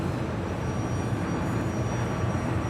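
An airliner at Los Angeles International Airport gives a steady, broad jet roar that holds evenly throughout, with no talk over it.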